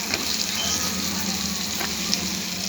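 Hyacinth beans are added to potatoes already frying in a pan for a mixed vegetable curry, producing a close, steady sizzle with occasional stirring scrapes and no speech.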